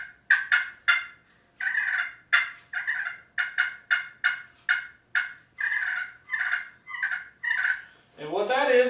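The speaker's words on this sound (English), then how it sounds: "that live decoy is out there and she just starts purring" A live wild turkey hen decoy purring in a steady, rolling cadence of short repeated calls, loud and close, with a sharper cluck-like burst at the end and no talking over it.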